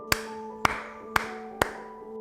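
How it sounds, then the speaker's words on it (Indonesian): Four sharp, isolated claps ring out at even intervals over a faint steady background tone, each with a short decaying tail. "Tepuk tangan"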